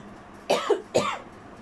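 Two distinct coughs about half a second apart, close and fairly loud, each a sharp burst with a rough tail, separated and followed by quiet with no talk.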